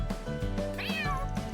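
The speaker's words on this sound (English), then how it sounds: "This little guy must be the top cat here in Centre Marché." A cat in the video game Trails Through Daybreak 2 meows once, clear and close, over soft steady game background music.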